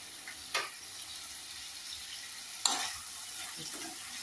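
Fish curry with taro and tomato stirred in a pot, a faint soft sizzle with two sharp spoon knocks against the pot, quiet and close, no voices.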